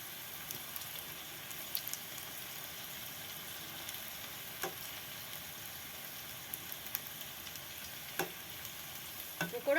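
Maggi noodle pakoras fry slowly in moderately hot oil over a low flame, giving a soft, even sizzle with occasional sharper ticks and pops, quiet and without speech.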